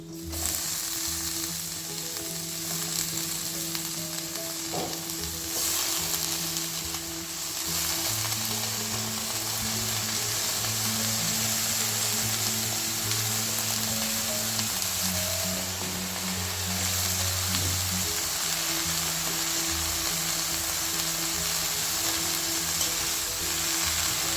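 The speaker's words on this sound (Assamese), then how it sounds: "পিঁয়াজখিনি ভজা হৈ গৈছে। মই এতিয়া ঢেকীয়া শাকখিনি ইয়াতে দি দিছোঁ।" Dhekia fiddlehead fern greens sizzling as they are added to fried onions in a pan for an Assamese dish, a loud, continuous close sizzle with low hum and stirring noises throughout, no voices.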